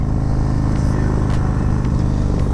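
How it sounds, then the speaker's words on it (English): A 2023 Harley-Davidson Road Glide ST with Tab mufflers idles close by, giving a loud, deep, lumpy exhaust rumble that stays steady throughout with a few faint clicks over it. "Oh yeah, listen to that. These Tab mufflers sound awesome."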